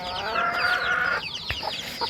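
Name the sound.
chickens clucking on rooftop farm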